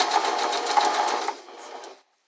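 A sewing machine runs a fast, even stitch while sewing fold-over elastic onto fabric, loud and close, then slows and stops after about two seconds.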